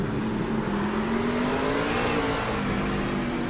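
A race truck's engine at North Wilkesboro Speedway revs and climbs in pitch, a loud sustained onboard drone with rising and falling harmonics, no talk over it.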